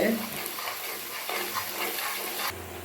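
Ribbon fish and ginger-garlic paste frying in a pan, stirred slowly: a steady close sizzle with scraping spatula strokes.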